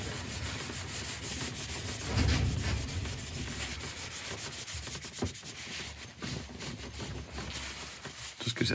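Gold embellishing wax is buffed into the bare grain of a turned wood bottle opener. A soft, continuous rubbing and scuffing sound comes from close by, with brief louder strokes and no talking.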